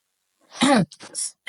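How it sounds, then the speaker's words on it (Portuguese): A single short cough near the microphone during a Bible reading, followed by a couple of brief throaty sounds. "Eu tive que tossir"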